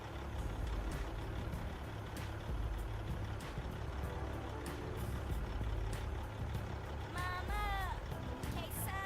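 In Farming Simulator 25, a truck engine starts and idles as a low, steady rumble, with a few sharp clicks and a rising tonal beep near the end.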